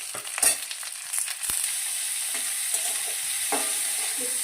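Mixed vegetables and onion sizzling in a hot pan while a spatula scrapes and stirs, giving a steady bright hiss with a few sharp clanks and scraping strokes near the start.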